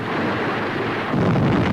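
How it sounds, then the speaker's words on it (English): German guns fire and shells burst among tanks and men on a road near Rome in 1944, a dense, continuous low rumble of blasts that grows louder toward the end. "German guns open up immediately. Shells fall on tanks and men in the road."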